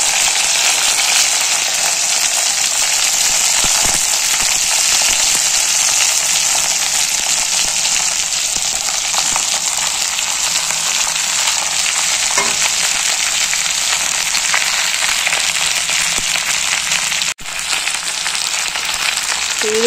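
Sliced okra fries in hot oil with black mustard seeds in a kadai, a loud, dense, steady sizzle with faint pops throughout and a brief dip near the end; nobody speaks.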